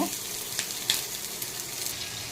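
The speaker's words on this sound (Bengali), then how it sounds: "এর ভিতরে আছে রসুন, আদা আর পেঁয়াজ, একটু হালকা পাতলা করে ভেজে নেব" Garlic, ginger and onion fry in a pan with a close, steady sizzle and a few brief clinks and scrapes over about two seconds, no speech.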